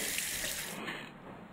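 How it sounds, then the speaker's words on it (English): Milky water gushing from a tap in the puzzle game Cube Escape: The Mill, a steady close splashing rush that thins partway through and keeps running softly, no voices. "We've got milky water"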